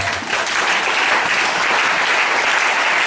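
Church congregation applauding during a French-language sermon, a dense, steady wash of clapping hands that stays loud and even throughout, with no voices standing out.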